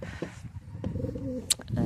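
Racing pigeons in a loft, a few low coos close by alongside scattered rustling and light knocks, fairly quiet overall.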